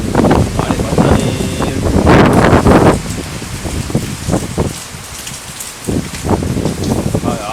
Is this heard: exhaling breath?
no